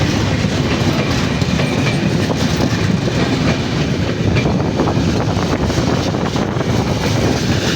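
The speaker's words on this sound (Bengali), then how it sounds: "বিশাল লম্বা ট্রেনটি বাংলাদেশি ট্রেন।" A long Bangladeshi train rolls through Joydebpur station without stopping, a loud, continuous close rumble of wagons with steady clickety-clack over the whole stretch.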